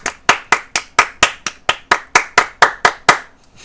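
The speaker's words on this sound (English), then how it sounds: "Everybody clap our hands." A group clapping hands in a steady unison rhythm, about thirteen loud, sharp claps evenly spaced, close by with no talking.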